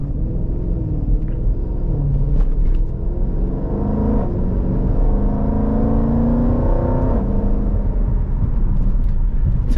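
A modified 2020 Jeep SRT with a cold air intake and high-flow throttle bodies drives through city streets, giving a loud, steady engine rumble that swells and eases a little under acceleration. There is no talking.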